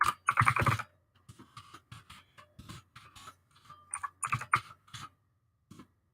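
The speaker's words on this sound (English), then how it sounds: "I'll type it out for you" Typing on a computer keyboard during a live stream, with irregular bursts of clicky keystrokes, a dense flurry at the start and then scattered, quieter taps and short runs, close-miked and without talk.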